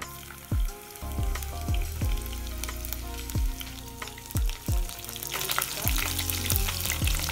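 Chillies fry in hot oil in a pan, giving a continuous, close, bright sizzle that runs under a repeating thumping musical beat, with no talking.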